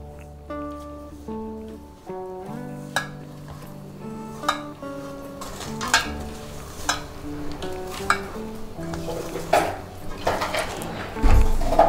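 Soft rhythmic stirring and scraping in a bowl as ghee is mixed into flour by hand for badusha, with light clinks of utensils against the sides, close up.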